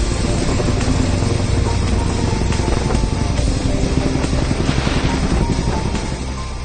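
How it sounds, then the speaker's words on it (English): Chinook helicopter rotor downdraft in Alaskan cold around minus 70, a dense continuous roaring wash of wind and rotor noise, loud and close, holding steady before easing slightly at the end. "The downdraft from the Chinook helicopter, about negative 70"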